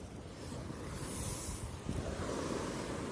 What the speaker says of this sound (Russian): А я вам сейчас море покажу, что там у нас.